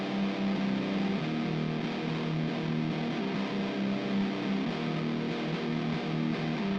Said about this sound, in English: And then we have the right guitar, which has Guitar Rig 7 with the Studio Solo lead preset.